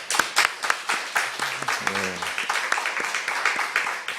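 Church congregation applauding during a Sunday worship service, a steady patter of many hands clapping across the clip, mixed with talk.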